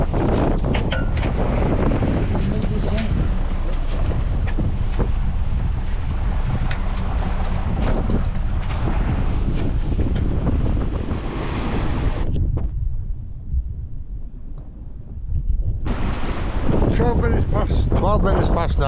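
Wind buffets the microphone on a sailing boat at sea, a loud, rough roar with water and wave noise beneath, easing briefly near the end before gusting back; a voice talks at times.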